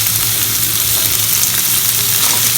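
Chopped onions hit hot oil left from frying prawns, giving a loud, steady, dense sizzle that runs unbroken with a low hum beneath and no voices.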